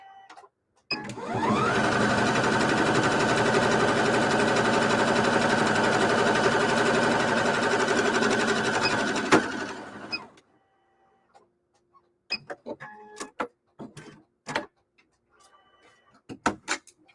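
A sewing machine fitted with a quarter-inch foot stitches at a loud, even, whirring pace for about nine seconds, then stops. Scattered clicks and light handling noises follow.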